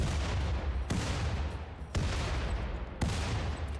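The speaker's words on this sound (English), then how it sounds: "I'm going to see how close these mortars get." Mortar shells firing and landing in the colony-building video game RimWorld, four heavy booming impacts about a second apart over a continuous rumbling roar.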